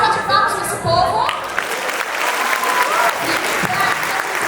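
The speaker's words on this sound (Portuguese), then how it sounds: "Uma salva de palmas para esse povo." A crowd at an evangelism school gathering breaks into loud, sustained applause, dense clapping filling the room with voices and a few whistles mixed in throughout.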